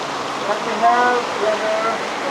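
Tumpak Sewu waterfall roars as a constant broadband wash of falling water, close and full, with faint voices barely showing through.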